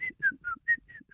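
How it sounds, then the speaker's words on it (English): A person whistles six short, clear notes in a halting, uneven sequence, close and fairly quiet, with a few louder notes in the middle and no talking over them. "That's a little bit better of a whistle."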